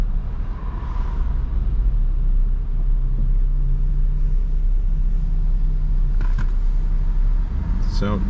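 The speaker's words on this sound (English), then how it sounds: "I didn't expect so much traffic." Steady road rumble and passing traffic heard from inside a BMW 328i e92 xDrive driving on a congested South Florida road, a constant low drone with a brief hiss and a squeal near the end.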